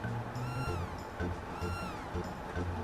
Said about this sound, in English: Crono, your cat's running away because you haven't been feeding it